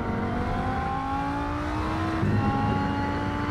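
Audi race car engine in the racing game Rennsport, a steady sustained drone with rising harmonic tones as it revs, close and continuous with a slight surge near the end.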